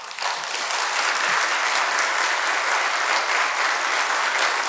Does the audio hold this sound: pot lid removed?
no